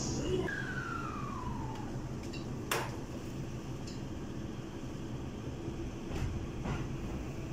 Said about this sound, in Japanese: 1番線西葛西行きドアが閉まります。